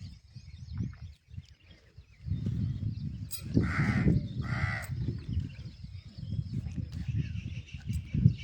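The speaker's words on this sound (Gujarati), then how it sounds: "જો આ 2 કાગડા આવે." Two crows caw repeatedly from close by in two clear bursts, heard over a steady outdoor background of low rumble and faint insect chirring at a spot with water bowls where birds are fed.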